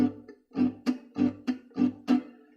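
Acoustic guitar rhythm accompaniment strummed in a downstroke style, gypsy jazz manner: about six sharp, evenly spaced chord strokes with a pause before the pattern starts, close and clear with no talking.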